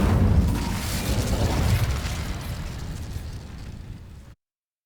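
A fire spell igniting dry vines in Hogwarts Legacy, a loud whooshing burst that rolls into a crackling, roaring blaze, then fades and cuts off near the end.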